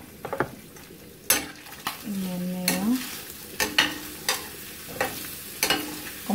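Pork chops browning in a frying pan, giving a steady low sizzle broken by repeated scraping and stirring strokes, with one brief humming tone partway through; no one speaks.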